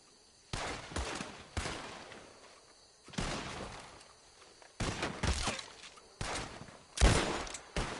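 Gunfire rings out in a video game firefight in repeated bursts of sharp, cracking shots separated by brief lulls, loud and close throughout.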